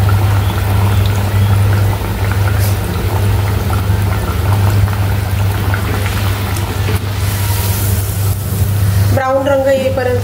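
Sweet Indian flatbread (telachi bhakri) fries in oil over medium-high gas, giving a steady loud sizzle and bubble throughout, with a brief clatter near the end.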